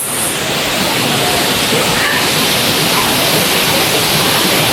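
Kawasan Falls roars loudly and continuously as a steady, close, broadband rush of cascading water with no breaks.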